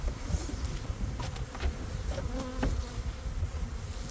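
Honey bees buzzing steadily in a five-frame spring colony being worked, a dense continuous drone close by with a few individual bees passing nearer, no talk.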